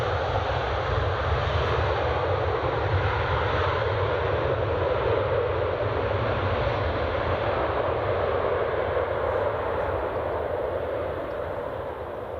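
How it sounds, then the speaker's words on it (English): A Ryanair Boeing 737 with split scimitar winglets comes in to land at Edinburgh Airport, a loud, steady engine roar and whine sustained throughout before easing off slightly at the end. "Ryanair 737 with split scimitars."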